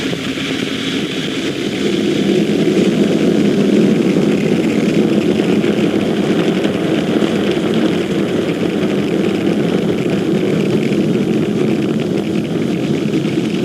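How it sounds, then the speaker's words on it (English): SpaceX Falcon 9 rocket lifting off from Space Launch Complex 40 at Cape Canaveral, Florida, on the USSF-124 mission, a loud, steady broadband roar that swells early and rumbles on unbroken. "Successful liftoff from Space Launch Complex 40 in Cape Canaveral, Florida"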